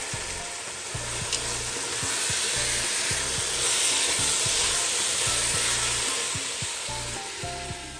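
Peas and capsicum sizzle and fry in a pan with carrots for chicken macaroni, a steady crackling hiss with rhythmic stirring knocks throughout, no voices.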